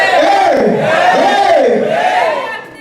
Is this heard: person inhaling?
no